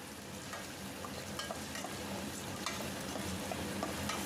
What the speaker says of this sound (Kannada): ಆ ಎರಡನ್ನು ಹಾಕ್ಕೊಂಡು ಫ್ರೈ ಮಾಡ್ಕೊಳ್ಳಿ